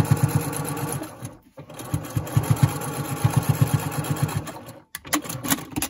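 A sewing machine stitches fabric ties for face masks in rhythmic bursts, humming loudly up close and pausing briefly twice before running again.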